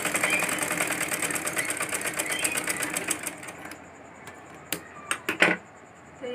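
A sewing machine stitching fabric for a baby frock, a fast, even mechanical whirr running continuously for about three seconds, then stopping and followed by a few short clicks and knocks.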